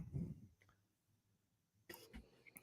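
A few quiet coughs, one near the start and another burst toward the end, separated by a hushed stretch.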